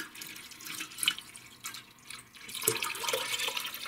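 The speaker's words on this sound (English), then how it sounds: "before drinking the water, I would always run it through my Berkey water filter" Water runs through a Berkey water filter as emergency drinking water is prepared. The trickle and splash are uneven and close, swelling and easing over a few seconds with no talk.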